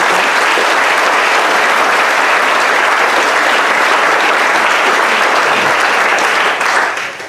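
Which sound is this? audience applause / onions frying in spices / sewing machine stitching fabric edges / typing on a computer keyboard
audience applause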